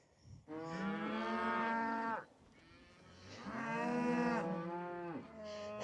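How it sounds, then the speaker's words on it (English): Large cows near a hillside footpath give two long, deep moos close by, each lasting a couple of seconds, with a quiet gap between them and a third call starting at the end. "there are some very big cows actually up on the main footpath there"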